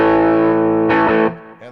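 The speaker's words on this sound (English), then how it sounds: "Here's the second voice of the humbucker." A sustained, distorted electric guitar chord on the humbucker pickup's second voice rings out, swells briefly with a brighter strum, then decays into a thinner trailing note.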